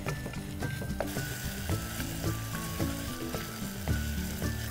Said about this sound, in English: it's time to add the onions